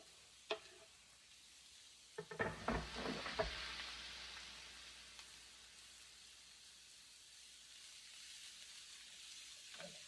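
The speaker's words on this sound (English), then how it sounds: "I'm also going to add in my red chilies, little Thai hot potato red chilies" Small Thai red chilies hitting a hot pan with turkey, a burst of clattering and loud sizzle, then steady frying hiss that settles and continues softly, no talk.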